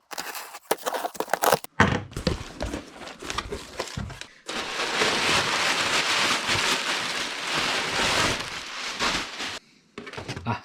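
Tape handled in a workshop: sharp crinkles and taps, then a long, rasping tear as a strip is peeled off the roll, ending in a few light handling knocks.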